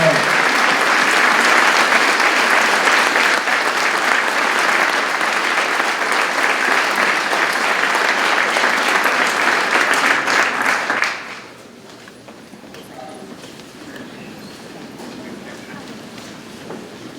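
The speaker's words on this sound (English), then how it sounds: "Final round of applause for our Vietnam veterans." Sustained, loud crowd applause at a Veterans Day ceremony honoring Vietnam veterans, steady for about eleven seconds before stopping abruptly, leaving quiet room tone.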